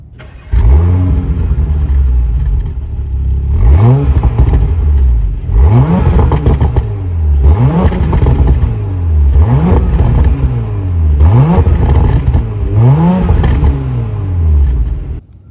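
A Porsche Macan S engine revving repeatedly, loud close bursts that rise and fall about every two seconds, with a deep exhaust burble between revs.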